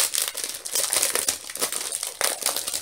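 A sheet of T-shirt transfer paper is handled close by, giving loud, irregular crinkling and rustling bursts.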